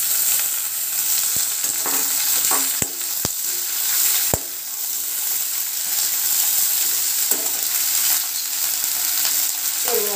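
Potatoes and onions are tipped into a pan of frying bitter gourd, loud continuous sizzling punctuated by a handful of sharp spatula clacks against the pan.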